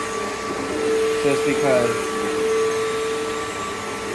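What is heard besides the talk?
PowerForce vacuum cleaner vacuuming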